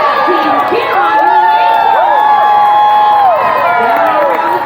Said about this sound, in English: Team, cheer on her.